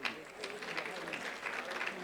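Audience applause greeting a female comedian at a Rwandan comedy show, a steady wash of many hands clapping at moderate level throughout, with faint crowd murmur underneath.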